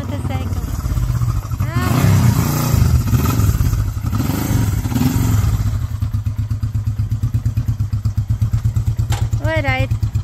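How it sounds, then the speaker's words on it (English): A vintage 1973 Honda CB350 motorcycle engine runs close by with a loud, rough, pulsing idle that settles into a steady rapid throb, while someone talks over the first half. "Very nice, cool motorcycle."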